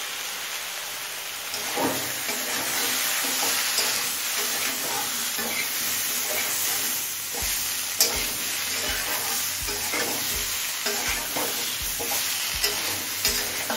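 Pre-fried fish heads stir-fry with mixed vegetables, ginger-cumin paste, turmeric and Kashmiri chili powder, a steady close sizzle with rhythmic scraping strokes of a spatula against the pan in the second half, and no voices.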